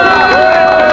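A dense crowd at an outdoor political rally in Seoul cheers and applauds in a loud, continuous roar, with raised voices and whoops blending into the noise.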